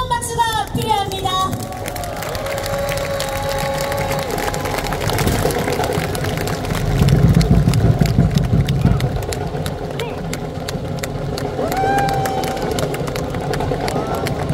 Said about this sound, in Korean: 더 크고 힘차게 박수 한번 보내주시죠